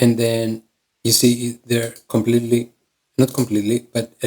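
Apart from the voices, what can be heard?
No everyday noise stands out behind the speech.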